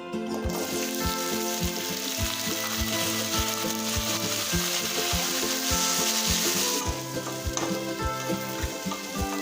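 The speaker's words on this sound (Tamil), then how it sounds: "சின்ன வெங்காயத்தை நல்லா வதக்கிக்கோங்க" Shallots sizzling in hot oil with browned urad dal for onion chutney, a steady bright fry broken by regular scraping strokes of a spoon stirring the pan.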